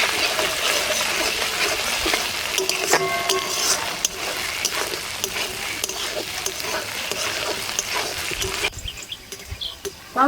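Chopped tomato sautéing in a pan for rohu fish kalia, a continuous crackly sizzle with scattered clinks and scraping, close and fairly loud, quieting toward the end.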